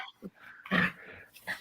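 A dog growling and grumbling indoors in short, close bursts, a low rumble with a couple of whiny peaks, no talk over it.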